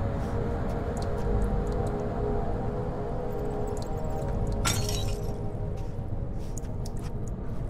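A glass bottle thrown and shattering in the horror game Amnesia The Dark Descent: a single sharp, bright crash near the middle, set against a steady low droning ambience.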